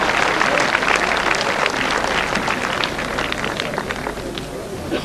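Sustained applause from a large racecourse crowd at Kempton for the King George VI Chase winner, a dense continuous patter of many hands, loud and even, easing slightly toward the end.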